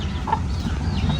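A country hen that has been sitting on ten eggs gives a few soft, short clucks close by over a steady low background hum.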